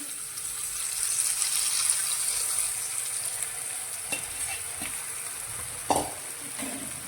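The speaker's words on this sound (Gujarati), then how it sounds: "હવે આપણે જે કેરીનો રસ અને છાશને મિક્સ કરીને રાખ્યા છે તે આપણે કડાઈની અંદર લઈ લઈશું" A wok sizzles steadily while mango juice and buttermilk are stirred in, with a few scraping clunks of a utensil near the end; no one speaks.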